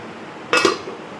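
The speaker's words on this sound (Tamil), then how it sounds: "மூடி வச்சிடலாம்." A metal lid is set onto a cooking pot while paneer butter masala simmers, making a single short clink and rattle with a brief ringing tail in a quiet kitchen.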